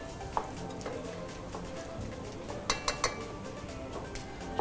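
Pine nuts frying in ghee in a pan, a steady soft sizzle with occasional clinks and scrapes of a utensil against the pan, fairly quiet throughout.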